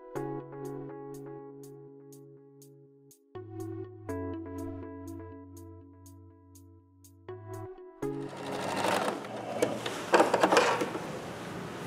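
A sewing machine stitches a center back zipper into a skirt, its needle tapping in steady fast runs broken by short pauses, then a louder, harsher whirring burst near the end, with no talking.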